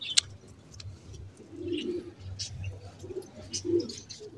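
Wild pigeons coo in low, repeated bursts close by, with short bird chirps and a sharp call scattered over a steady outdoor background; no one speaks.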